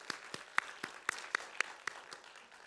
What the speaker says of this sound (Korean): 우리 주 예수 그리스도의 탄생을 기뻐하며 우리 하나님께 영광의 박수 올려드릴까요?